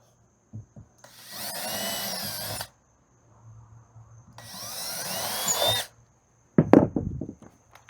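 Two sustained bursts of a power drill whirring into wood, each lasting a second or two, followed by some clattering handling noises.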